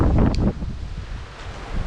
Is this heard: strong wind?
yes